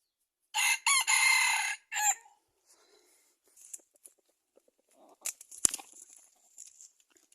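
A red junglefowl rooster crows loudly nearby in a few drawn-out bursts, followed by quieter scattered rustling and clucks.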